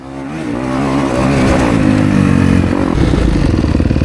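A dirt bike engine climbs a hill trail, a loud close roar that rises in pitch as the rider accelerates and then holds a strained, throbbing drone.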